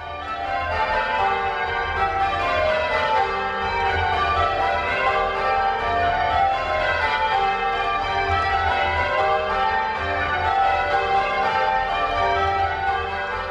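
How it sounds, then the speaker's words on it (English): Change ringing on a tower's church bells, with descending roll-ups on the largest four of eight bells, ringing as a dense, continuous overlapping wash of resonant bell strikes at a steady pace. "You're about to hear 2 descending roll-ups, one change apart on the largest 4 bells, numbers 5, 6, 7, and 8, right after the conductor calls a bob."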